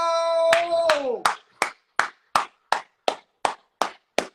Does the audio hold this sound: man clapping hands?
yes